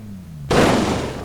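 Car crash in the BeamNG drive driving game: a sudden loud broadband impact bursting in mid-clip after quiet engine hum, then a noisy crunching decay.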